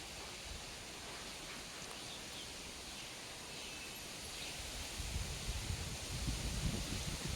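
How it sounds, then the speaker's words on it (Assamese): Wind blows steadily through foliage before rain, a soft, continuous rushing with leafy rustle that swells slightly toward the end, with no talk. "বতাহো মাৰিছে পুৰা"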